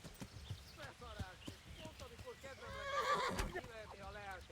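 In the medieval game Kingdom Come: Deliverance, a horse whinnies several times over steady clip-clopping hooves, with a louder neigh near the middle and game sounds and voices mixed in.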